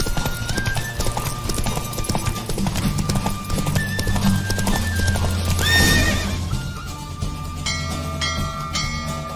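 A horse gallops in a race in The Witcher 3, with fast rhythmic hoofbeats and a clear neigh over a game music score. The sound is steady and prominent throughout.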